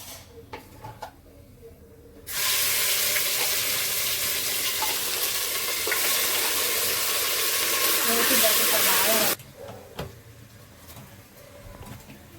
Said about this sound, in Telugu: గ్రైండ్ చేసి పెట్టుకున్నాం కదా ఆనియన్ పేస్ట్, మెంతులు, ధనియాలు, జీలకర్ర, అది మొత్తం ఈ ఆయిల్లో వేసేయాలండి.